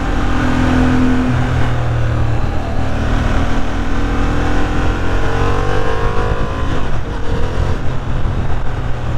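A 2023 Honda Hornet parallel-twin motorcycle engine drones loud and steady while riding, its pitch slowly shifting with changes in speed, under heavy wind rush.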